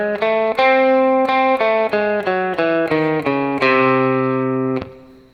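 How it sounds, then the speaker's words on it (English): A guitar plays the Super Locrian double flat 7 scale, the seventh mode of harmonic minor. About a dozen distinct picked notes move step by step through the scale, bright and sustained with a distorted tone, ending on a long ringing final note. "So the 7th mode of the harmonic minor scale is called the Super Locrian double flat 7."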